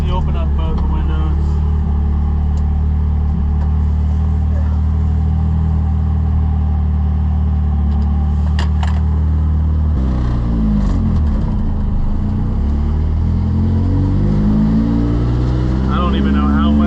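A Nissan 240SX S13 with a turbo drives along with windows open, engine droning steadily and loud, then a fluttering, wavering sweep of turbo sound as revs shift midway.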